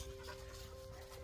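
A herding dog of sheep and goat flocks pants steadily at close range, a continuous breathy rhythm with no talk over it.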